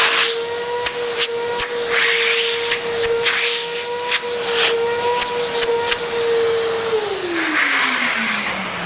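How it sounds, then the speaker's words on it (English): A Genesis Duravac double-stage vacuum cleaner runs with a loud, steady high whine that holds level for several seconds, then drops in pitch as the motor winds down, with no talking. "that's a very powerful vacuum cleaner"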